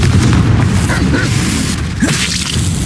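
The Confringo explosive spell blasting in the Hogwarts Legacy video game: loud, booming bursts and whooshing impacts over a dense rumbling game soundscape, with a sharper crack near the end.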